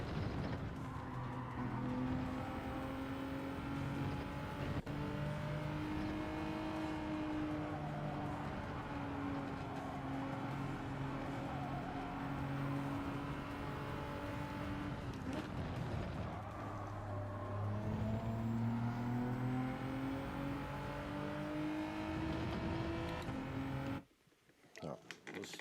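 A Gran Turismo 7 race car at full throttle, its engine a sustained rising and falling whine with strong harmonics, shifting through gears and running loudly the whole way before cutting off abruptly at the end.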